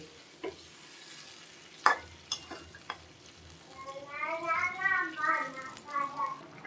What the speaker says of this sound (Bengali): এখন জল দিয়ে দিচ্ছি চিকেনের পাতলা জল